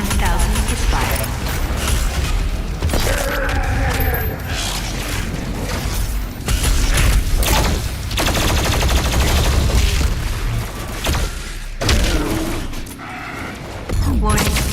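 The BFG 10,000 fires in a video game as a dense, loud barrage of booming shots and mechanical clatter that runs without a break, with voices talking over it.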